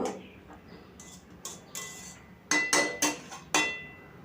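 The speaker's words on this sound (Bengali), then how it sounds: "এরপর এটাকে মিশিয়ে মিশিয়ে আমি ভেজে নেব" Radish frying in a pan with very little oil, being stirred by hand: a run of sharp utensil scrapes and clinks against the pan, louder toward the end, over a faint low sizzle.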